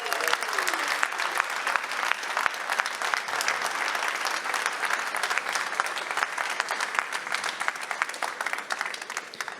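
Sustained applause from an audience at the final of an eloquence contest for funeral masters of ceremonies in Paris, dense and even clapping lasting throughout.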